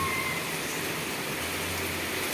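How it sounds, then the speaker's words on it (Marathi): Steady, dense pre-monsoon rain hisses continuously with no break, a close wash of broadband noise and no voices. "हा मोठा पाऊस आला आहे वळवाच आहे"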